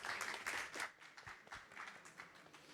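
Faint audience applause welcoming speakers at a booksellers' gathering, a brief burst of clapping that thins out and trails off.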